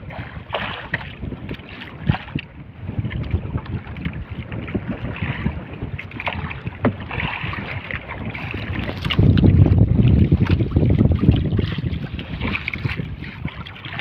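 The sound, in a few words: strong wind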